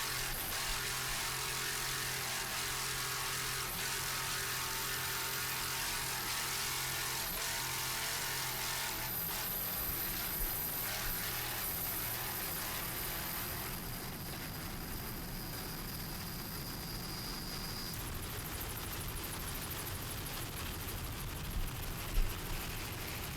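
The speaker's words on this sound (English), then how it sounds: "Jerry Mimoli doing a great job on the throttles in this classic 27-foot Magnum." Engines of a classic 27-foot Magnum powerboat racing offshore at Biloxi, Mississippi, make a steady, distant roar that holds throughout with a faint shifting drone and no voices.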